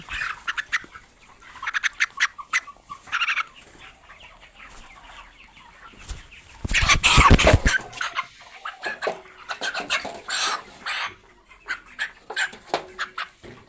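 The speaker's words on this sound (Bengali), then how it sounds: "এখান থেকে যে কোনো একটি মুরগি ধরে আপনাদের ওজন করে দেখাচ্ছি" Chickens cluck and squawk in short bursts, with a loud flurry of flapping and commotion midway as a bird is grabbed for weighing, then more agitated clucking.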